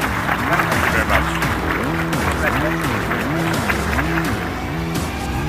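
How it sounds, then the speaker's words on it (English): Audience applauding the finalists at the finale of an infrastructure vision challenge: continuous clapping from a crowd over a loud, repeating tonal music loop, holding steady throughout. "Let's have one more applause for our finalists."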